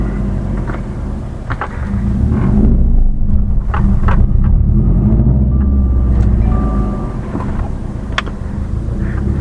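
A Subaru STI fitted with a stage 4 clutch is driven with some throttle, its loud engine rumble swelling and easing, mixed with wind buffeting and scattered clicks and knocks from the cabin.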